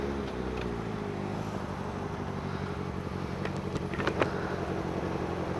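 A Yamaha XJ6 motorcycle exhaust drones steadily at moderate distance, a continuous low engine rumble with no other voices over it.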